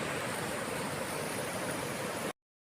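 Fast-flowing river water runs full and swift, a steady, loud broadband rush that fills the whole clip without pause before cutting off abruptly; no voices are heard over it.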